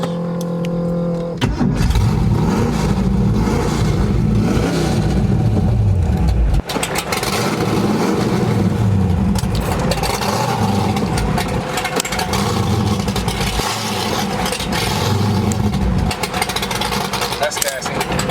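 A race car engine revs loudly and close during a ride, a rough churning drone with surging throttle that runs throughout, while people talk over it.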